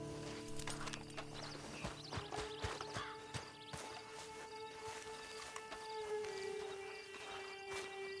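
Horse hooves clip-clop in the open-world western game Red Dead Redemption 2 Online, a run of close irregular hoof knocks over a sustained tonal background drone with no speech.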